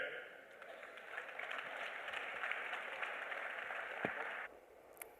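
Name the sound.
audience applause for the panel rapporteur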